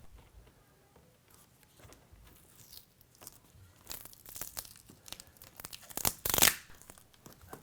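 Adhesive tape and plastic insulation film peeled off a window, heard as scattered soft crinkles and ticks that build into louder tearing rips near the end, close by and without talk.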